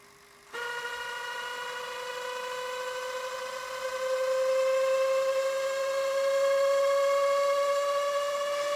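An Aiwa AD-F410 cassette deck near the end of its rewind gives off a steady mechanical whine that starts suddenly, rises slowly in pitch and grows louder partway through. No one speaks.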